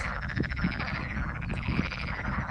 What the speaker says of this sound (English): little pond here. And it's full of frogs.